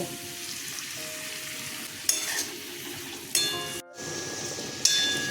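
Cashews and onion frying in a pan as they are stirred, a steady sizzle broken by several metallic scrapes and clinks of the spoon, close, with one brief dropout.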